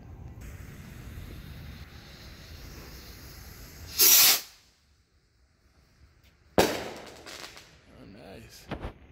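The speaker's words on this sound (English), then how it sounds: "we got these Skybolt rockets by Brothers. 5-piece." Brothers Skybolt rocket fireworks launch outdoors, one loud whooshing burst followed by a sharp crack and a fading hiss. Light talk can be heard in between.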